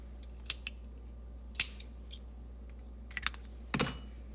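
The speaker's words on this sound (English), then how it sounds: "get your scissors and then just leave a good little tail" Scissors snip a crochet yarn tail in a few quiet, crisp metallic clicks spread out over several seconds, ending in a slightly longer double cut, close up in a still room.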